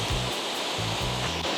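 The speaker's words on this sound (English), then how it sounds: "that's just the waterfall mist" Gullfoss waterfall on Iceland's Golden Circle, a steady loud roar of falling water and mist, continuous broadband rush with a low wind-like rumble underneath and no speech.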